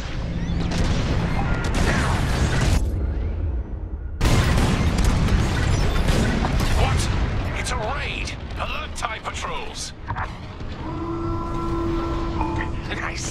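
Bombs detonate on station targets in Star Wars: Squadrons, heavy booming blasts and rumbling impacts in bursts, mixed with ship engine noise and flight effects; a voice speaks over part of it.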